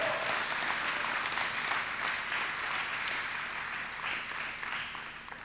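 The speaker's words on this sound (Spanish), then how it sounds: "démosle fuerte ese aplauso a Él" A church congregation breaks into sustained applause, a dense, steady wash of many hands clapping together that stays even throughout and never stops.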